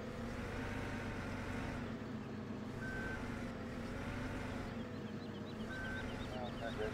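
Reversing beeps from a truck in the Farming Simulator 17 video game during tree cutting: two spaced electronic beeps over a constant droning engine rumble.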